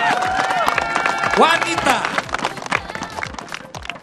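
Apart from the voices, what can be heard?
applause for the women's 100 metre runner-up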